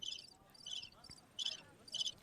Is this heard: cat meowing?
no